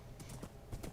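Horse hooves clip-clop in Minecraft, a quick run of several dull thuds in uneven rhythm, fairly close, over a low background wash.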